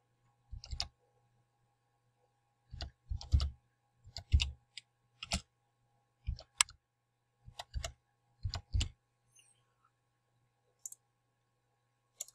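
Isolated clicks and short clusters of keystrokes from a computer keyboard sound close and crisp while a captcha is typed, scattered irregularly with quiet gaps between them.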